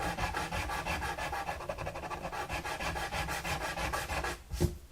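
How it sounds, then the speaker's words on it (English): Rapid back-and-forth rasping of sanding sticks on a wooden guitar, taking off a glue line, a steady rhythmic scrubbing close up, ending with a few light knocks. "You got a little bit of a glue line up here, so that needs to be taken off. And I will get my sanding sticks here"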